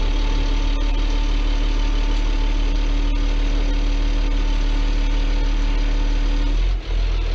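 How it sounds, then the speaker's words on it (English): A crane truck's engine idles steadily with the throttle in, a loud, constant low rumble with a slight knock that runs nearly unbroken before a brief dip near the end. "you got throttle in. We're gonna learn how to run this crane."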